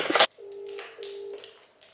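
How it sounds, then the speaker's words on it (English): A FaceTime call ring tone chimes in short repeated electronic tones after a brief burst of noise at the start, fairly quiet and heard without talk. "I feel like I need to FaceTime her."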